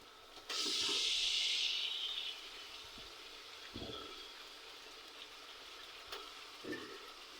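Chicken pieces drop into a pan of fried spice paste for a Bengali broiler chicken curry, setting off a loud hissing sizzle that swells and then eases into a quieter steady fry, with a few soft knocks later.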